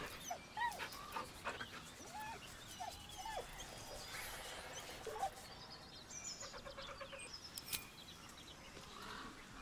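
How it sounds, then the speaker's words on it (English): A dog in Baldur's Gate 3 whines softly beside its owner's corpse, giving several faint, short, rising whimpers with panting between them, quiet and close. "With a deep, heartbroken whine, the dog bows his head."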